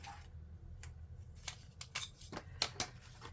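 Several quick crisp snips of scissors cutting paper, irregularly spaced and close, with quiet rustling between cuts.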